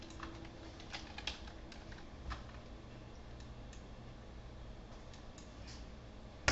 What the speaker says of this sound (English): If we type in Howie's Apprentice